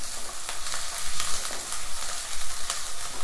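Onions fry in a pan with a steady, bright sizzle and faint crackles throughout, close and fairly loud with no talking.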